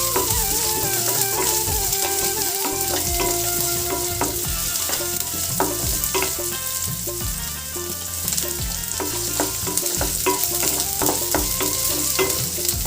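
Onion, garlic and ginger paste frying in hot oil gives a dense, loud, continuous sizzle, broken by frequent clicks and scrapes of a spoon stirring the pan. Faint tonal background sound runs underneath, and no one speaks.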